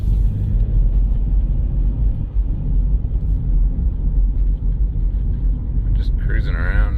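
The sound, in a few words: 2007 Jeep WK CRD driving in city traffic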